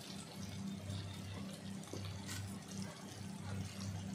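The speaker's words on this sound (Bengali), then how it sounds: "এবার জল দিয়ে দেব" Water pours steadily into a simmering puti fish curry with large-cut onions in a home kitchen, a continuous moderate splashing stream with no talk.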